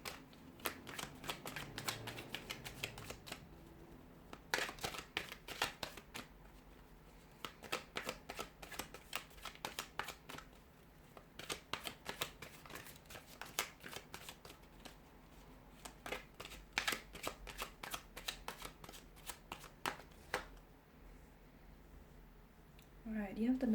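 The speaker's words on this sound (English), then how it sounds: "we'll go ahead and give the cards a shuffle" Tarot cards are shuffled in repeated bursts of crisp, close riffling and flicking, with brief pauses between bouts and a soft voice murmuring faintly beneath.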